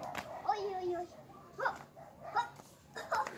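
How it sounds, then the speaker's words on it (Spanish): A dog gives several short, high yips and barks spread across a few seconds, fairly quiet and close, with faint background noise. "Cuidado de la perra"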